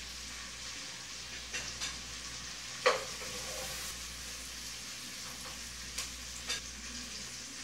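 Sausage frying in a pan for kale farofa, a quiet, continuous sizzle with a few sharp clinks and scrapes of stirring scattered throughout.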